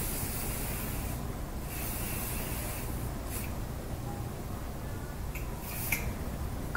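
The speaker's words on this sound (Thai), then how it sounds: "ก็จะฉีดสเปรย์นิ่ม" Soft-hold hairspray hisses in a long, steady spray onto curled hair, with a couple of brief, sharper bursts.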